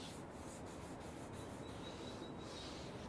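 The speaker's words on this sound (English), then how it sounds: "So I just need to wipe off the excess now" A rag rubs excess stain off a solid oak beam in a continuous, faint, close-up wiping and scuffing sound with no voices.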